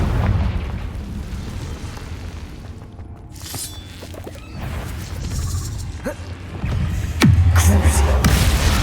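Fire spell explosions bursting in Hogwarts Legacy combat, a series of loud booms and crackling blasts with a heavy impact near the end, amid spell-casting effects.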